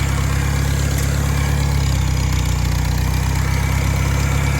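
A Farmall 140 tractor engine from a barn find idles steadily on choke with its carburetor plugged, a loud, continuous low rumble and even chugging throughout with no voices.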